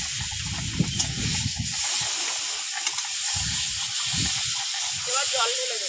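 Pre-fried fish added back into a pan of spiced gravy, a loud close hiss and sizzle that swells and settles, with a voice speaking over it.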